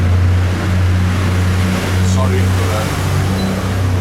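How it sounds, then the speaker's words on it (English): A rubbish lorry drives up a road in Mallorca, a steady, deep engine rumble that stays constant throughout, while a person talks over it. "a lorry that's just driving up the road. That's our rubbish lorry coming to collect the rubbish."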